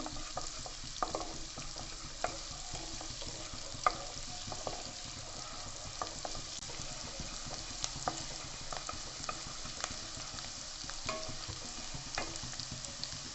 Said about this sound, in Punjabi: ਥੋੜੇ ਜਿਹੇ ਪਿਆਜ਼ ਪਿਆਜ਼ ਨੂੰ ਵੀ ਆਪਾਂ ਚੰਗੀ ਤਰ੍ਹਾਂ ਭੁੰਨਾਂਗੇ